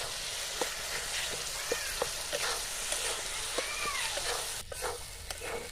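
A spice masala with poppy seed and nut paste is sautéed in a pan, making a quiet, steady sizzle with regular scraping clicks from stirring.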